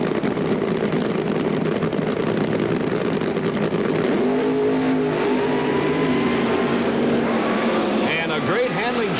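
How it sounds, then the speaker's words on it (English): Late-1970s drag racing cars, including a 1977 Monza, creep into the staging beams with loud engines idling and revving, building to a rising roar; a commentator talks over the engine noise throughout. "Both cars inching into the staging beams, getting set for that green light, which means go."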